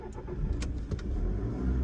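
A diesel car engine, a Volkswagen Polo 1.5 or a Maruti Swift 1.2 diesel, heard from inside the cabin with the windows up and the bonnet open, running as a steady low rumble with a few brief mechanical ticks and no talk.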